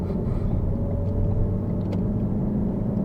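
Car on an exit road during a driving lesson, a steady low engine rumble and road hum as it gathers speed, with no voices.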